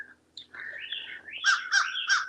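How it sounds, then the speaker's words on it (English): Birds singing in a North Texas garden during a total eclipse, several clear close chirps and warbling calls in short bursts against quiet surroundings, no voices. "Yes, the birds are still singing."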